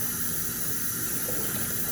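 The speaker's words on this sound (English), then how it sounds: "we're gonna rinse it off" A sneaker being rinsed under a running tap, a steady close hiss and splash of water that continues unbroken without any talking.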